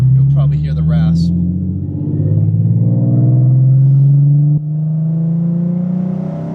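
Nissan 370Z fitted with equal-length headers and a valve exhaust pulls hard under acceleration, its loud rising exhaust drone climbing steadily in pitch with a brief break near the end as a shift is made.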